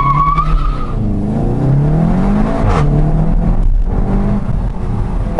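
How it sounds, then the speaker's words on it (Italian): A 2019 Seat Leon Cupra R with 300 hp launches hard from a launch-control start in Cupra mode, its engine loud and close, roaring and rising in pitch through the gears with brief tire squeal. "E direi allora di partire anche con un bel launch control, modalità Cupra, sinistro sul freno,"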